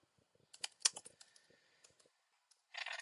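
Typing a git commit message on a computer keyboard: irregular bursts of close, crisp key clicks, sparse at first and then quickening, ending with a short rapid flurry of keystrokes.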